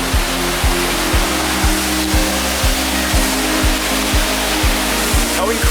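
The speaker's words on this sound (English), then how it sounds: "I'm just gonna show you the waterfall" A waterfall in the Grampians in Australia roars with a dense, loud, steady rush of falling water, nearby and unbroken, with a faint low regular pulsing beneath it.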